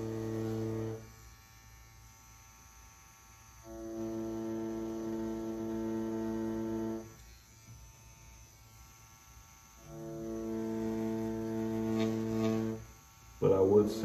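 A tattoo machine from a Poseidon tattoo kit buzzes in three separate bursts of a few seconds each, with a steady electric hum between them and a brief clatter at the end.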